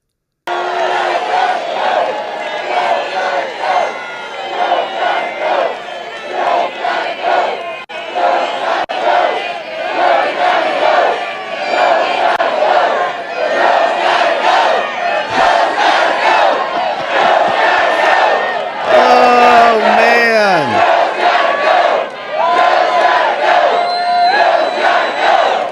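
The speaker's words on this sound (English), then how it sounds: "Pretty big crowd over there for Donald Trump, all responding to the gaffes of our current president" A large crowd at a Donald Trump political rally cheers and shouts continuously, a loud sustained roar with surging chants and whoops rising and falling over nearly half a minute.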